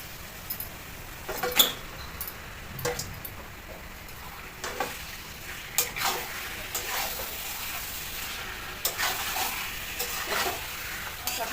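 Marinated chicken pieces for biryani frying in a pot, an even sizzle broken by repeated clattering scrapes and knocks of stirring, close and without talk.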